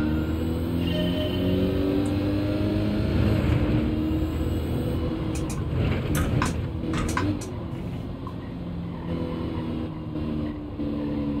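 Car engine in Gran Turismo during a licence test, H-pattern manual with clutch and no traction control, droning and shifting pitch as it accelerates, with scattered clicks and a few sharp transients partway through.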